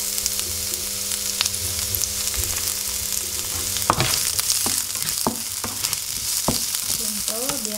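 Onion and garlic sizzle steadily in a little hot oil, a continuous frying hiss broken by sharp clinks and scrapes of a utensil stirring the pan, with no one speaking.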